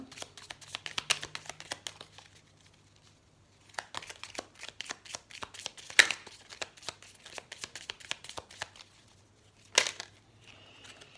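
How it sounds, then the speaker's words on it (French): Tarot cards are shuffled and drawn by hand in quick, soft riffling bursts with brief pauses and a few sharper snaps, close and fairly quiet. "Je vais tirer une carte synthèse pour voir s'il y a un message supplémentaire."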